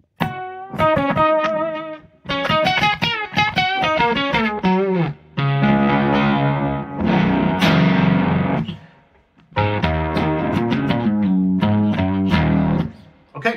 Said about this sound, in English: So you can already hear the octave up effect happening.